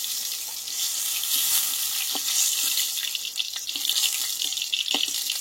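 Pointed gourd (potol) fries in oil with a continuous bright crackling sizzle, close and steady, while a spatula scrapes and lifts pieces from the pan; no one speaks.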